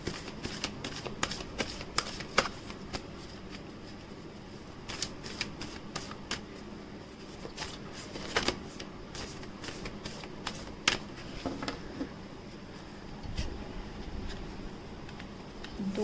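Tarot cards shuffled by hand, with quick papery riffles and slaps coming in repeated bursts for about sixteen seconds; close and fairly quiet, with no voices.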